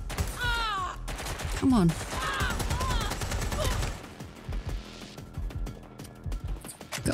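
Gunfire in the video game Watch Dogs Legion comes in scattered bursts and single shots amid game effects and a man's speech, with a short exclamation near the end.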